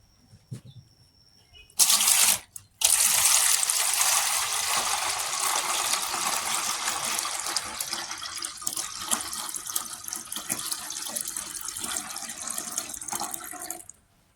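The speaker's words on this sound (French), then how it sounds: "Nous allons changer de l'eau. Là, en version de l'eau pour continuer à laver." Water running and splashing in a basin while ingredients for Cameroonian koki are washed, a steady loud rush that begins after a few short clunks and continues to the end.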